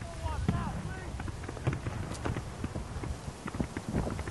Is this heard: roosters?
no